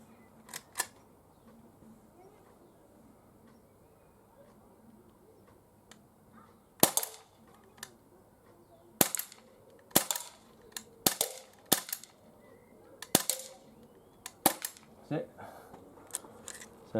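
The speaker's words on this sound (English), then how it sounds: "I've got 6 more shots left, so we'll see if we can hit these rest of these cans on the ground." Umarex PPQ M2 air pistol with a chain magazine fired at cans on the ground outdoors, a string of sharp, fairly quiet cracks at irregular intervals with faint ticks between, and a person talking.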